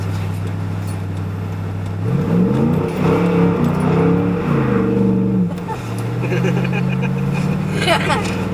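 A heavy V8 car engine revving with its wheels spinning in snow, a loud, steady droning roar whose pitch climbs and falls as the throttle changes.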